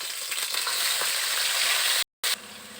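Cumin, nigella seeds, ginger, tomato and green chilli paste fry in hot oil in a kadai, giving a loud, dense, continuous sizzle broken by a brief silent gap near the end.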